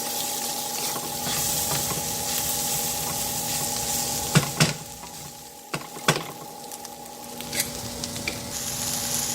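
Grass-fed beef, shiitake mushrooms and long beans sizzle steadily in a hot skillet, with a continuous frying hiss and a few brief clinks and scrapes of stirring; no one speaks.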